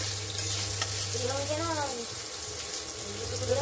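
Food fries in a pan in a home kitchen, with a continuous close sizzle and some stirring and scraping, and a voice briefly heard over it.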